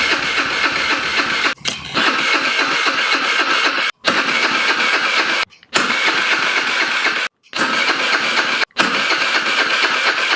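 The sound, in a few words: 50cc Chinese scooter engine starting and idling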